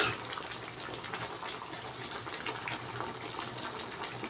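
Water running from a tap while vegetables are washed, a steady soft gush and splash that continues throughout at a modest level, close by.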